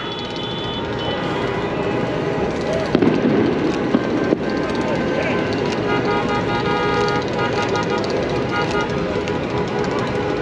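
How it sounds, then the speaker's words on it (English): Fireworks being shot in a Chicago street during a Mexican Independence Day celebration, dense continuous crowd and traffic roar with scattered pops, horn-like tones and a couple of sharper bangs. "they're at the top of the trucks, dancing in the street, shooting fireworks"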